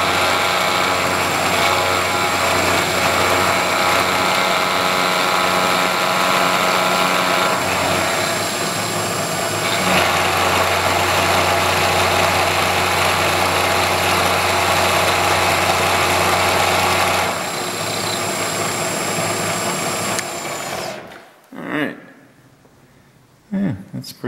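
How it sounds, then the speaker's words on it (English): A milling machine with a sharp end mill squares up a metal workpiece held in a vise, producing a loud steady machining whine and motor drone that stops near the end, with a voice speaking over it. "Nice sharp end mill."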